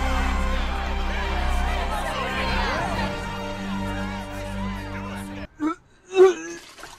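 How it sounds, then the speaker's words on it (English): A drawn-out moaning, groaning voice of someone getting sick, wailing and wavering for several seconds before breaking into a couple of short retching bursts near the end. "That's the sound of a self-righteous Batman fanboy getting sick from hearing this speech."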